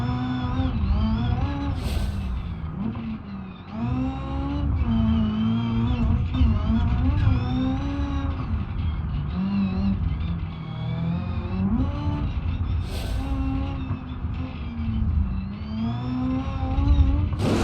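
A car engine in the driving game BeamNG.drive on a Utah time-trial course, revving hard and steadily through rising and falling pitches with repeated gear changes, loud and close for the whole run.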